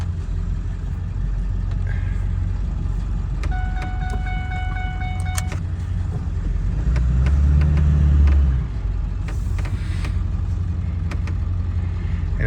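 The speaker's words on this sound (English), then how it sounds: "the next thing we gotta do is we gotta drive the truck over to the plow" A pickup truck drives over toward a Boss V-plow. Its low engine rumble runs throughout, swelling louder for a moment late on, while a short series of electronic chime tones sounds early in the drive.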